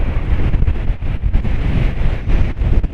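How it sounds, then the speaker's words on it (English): Huge waves crash on the Paphos seafront in a gale, a loud turbulent roar of surf mixed with heavy wind buffeting the microphone, surging in uneven bursts without speech. "the huge wave just crashed over it."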